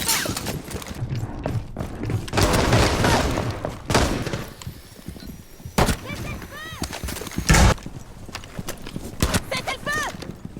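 Gunfire and explosions in the video game Rainbow Six Siege, bursts of shots and booms scattered through the clip mixed with in-game voice announcements and other game effects.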